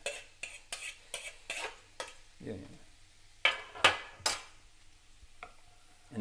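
Leeks and onion dropped into foaming butter in a pan for a quiche, heard as a series of sharp, close scraping and clattering stirs with short sizzling bursts between them and a pause near the middle.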